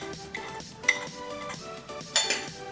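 A spoon clinks against a pan while crushed garlic, cumin, turmeric and salt are stirred into mashed roasted eggplant for baingan bharta, with soft scraping and a few sharper metallic taps, close and fairly quiet.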